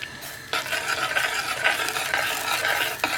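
Butter and juice for a German stollen fruit cake are stirred together in a bowl, giving continuous wet scraping and swishing strokes at close range with a brief pause near the start, no speech.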